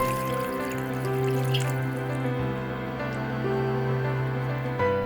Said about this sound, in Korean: 채를 이용해 끓여둔 육수를 걸러 부어줍니다